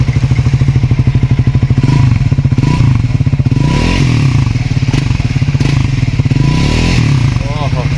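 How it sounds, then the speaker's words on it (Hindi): Triumph Scrambler 400 XC motorcycle idling nearby, a loud, steady, rapid engine and exhaust thump throughout, with a little mechanical clatter and faint voices around it. "हाँ भाई, ये है स्क्रैम्बलर। अब ज़रा इसकी आवाज़ सुनाता हूँ आपको।"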